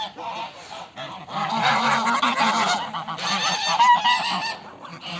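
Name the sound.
Filik goose honking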